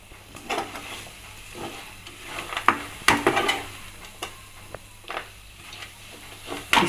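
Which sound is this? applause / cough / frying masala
frying masala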